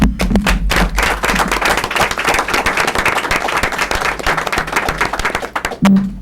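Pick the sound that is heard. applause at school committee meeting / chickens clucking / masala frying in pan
applause at school committee meeting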